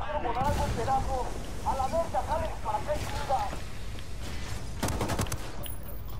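Frag grenade going off in the shooter Ghost Recon Wildlands: a short cluster of sharp, loud blasts near the end, after voices talking over steady background noise.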